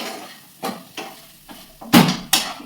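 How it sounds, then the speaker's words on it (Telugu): Brinjal pieces frying in a pan with salt and turmeric are stirred. Six or so quick scraping strokes come at uneven intervals, close up, with a faint sizzle between them. "ఇప్పుడు వీటిని కలుపుతామండి."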